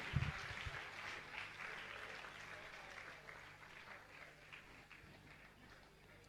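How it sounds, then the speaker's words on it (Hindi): Quiet audience applause rises from a gathering at a religious discourse event, a soft, distant patter of many hands that continues evenly throughout. "तालियां तो बजाइए, अच्छे से बजाइए, आपकी तालियां बहुत कम बज रही हैं।"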